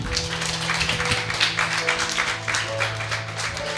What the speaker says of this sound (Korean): 다시 한번 여러분 큰 박수로 이 시간 우리 축복해 줬으면 좋겠습니다